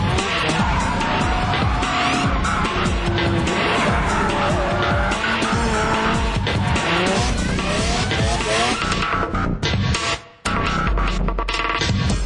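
Several drift cars run together in a practice session, engines roaring and tires squealing in continuous loud skids that overlap across the whole stretch.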